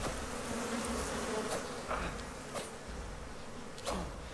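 Bees buzz steadily in the video game Icarus, a faint continuous drone with a few brief whooshing swells, with no one talking.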